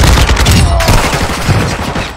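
Rapid gunfire crackles through a shooter video game match, bursts overlapping in dense, loud volleys across the whole moment with no pauses.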